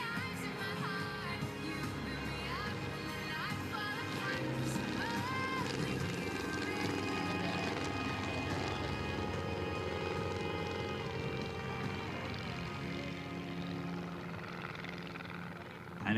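Aircraft pass overhead at the Weston Park air display, a steady broad engine roar that holds for a long stretch against faint background chatter from the crowd.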